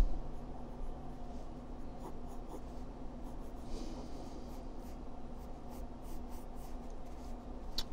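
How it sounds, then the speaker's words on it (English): A pencil sketches a face on paper, making a steady, close scratching and rubbing with short strokes repeating throughout, quiet and alone. "So I'm going to draw that chin."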